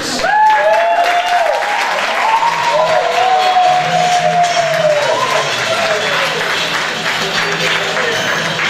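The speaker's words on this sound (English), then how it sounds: "a big round of applause for our candidates" Audience at a student election question time applauding candidates for VP Education, a dense, sustained wash of clapping with whistles and cheers rising over it, loud throughout.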